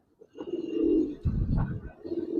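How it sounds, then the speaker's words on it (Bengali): Giribaz silver pigeons coo close by, with low, throaty, rolling coos repeating over a couple of seconds and no talk. "ভাইয়া দুইটা সিলভার কবুতর, একটা আপডেট একটা ওল্ডেস্ট।"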